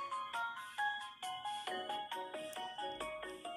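A phone rings with a melodic ringtone for an incoming call, a repeating bright chiming pattern in quick regular pulses, clear and alone.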